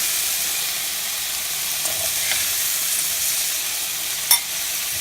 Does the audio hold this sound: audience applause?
no